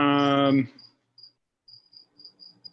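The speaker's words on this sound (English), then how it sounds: "Are those crickets?" Crickets give thin, high chirps in short, evenly spaced pulses, faint and distant, after a brief spoken voice at the start.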